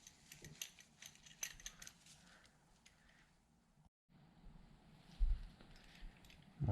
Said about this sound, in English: So also use the 6 hex key, Allen key. We'll place it here and unscrew it.